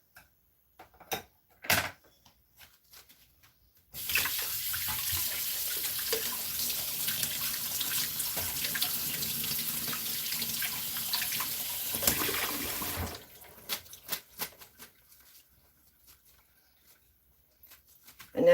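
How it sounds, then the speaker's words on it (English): Running tap water rinses baby carrots, a steady, full splashing stream that lasts about nine seconds, with scattered kitchen clatter and knocks before and after. "And I'm just going to go ahead and rinse these."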